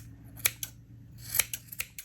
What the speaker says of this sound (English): I might take some larger scissors for that.